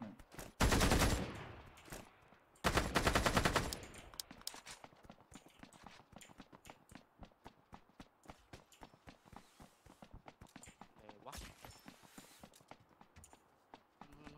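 Gunfire in the video game Ring of Elysium: two loud, dense bursts early on, followed by a long run of rapid, sharp cracks and clicks of varying loudness, like distant shots and footsteps.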